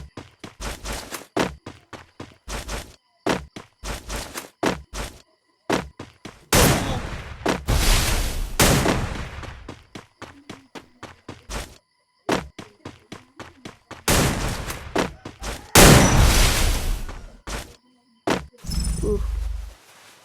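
Rapid bursts of video game gunfire, sharp cracks and short volleys loud and close, broken by longer sustained blasts and brief silent gaps.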